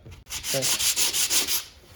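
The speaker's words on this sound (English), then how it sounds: "just start sanding and trying to knock it down without scratching everything up too much" Hand sanding of a particle board furniture repair, a close, steady run of rhythmic rasping strokes, roughly eight back-and-forth passes in quick succession.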